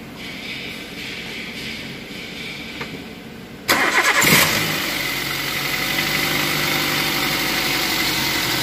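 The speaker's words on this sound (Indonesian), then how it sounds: "nanti kita kemudian nanti mesin kita hidupkan" A car engine is cranked and catches during charging system repair work, with a quiet stretch followed by a sharp starter burst and then a steady, close idle that continues to the end.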